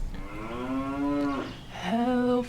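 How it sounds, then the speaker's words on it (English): A cow moos twice, loud and close: a long drawn-out call that bends upward, a short pause, then a second rising moo, with nothing else heard. "Where's the moo?"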